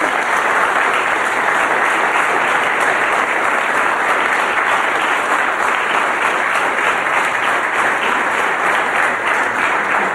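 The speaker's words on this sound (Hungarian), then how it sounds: "megérdemelnek egy tapsot most is mindjárt" An audience at a stand-up comedy show applauds loudly and steadily, a dense wash of clapping that holds for the whole stretch without a break.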